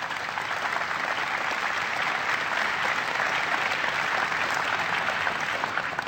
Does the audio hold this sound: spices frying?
no